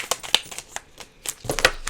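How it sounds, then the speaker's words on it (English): A new deck of playing cards is handled and shuffled in a few quick, irregular bursts of crisp riffling and flicking, close by. "It's a new deck, so it like doesn't want to shuffle the way that it should."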